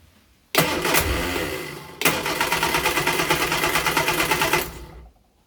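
Car engine cranking on choke: a starter whirs in one short attempt, pauses, then a longer second attempt with a rapid rhythmic chug that fails to catch before stopping, close and alone.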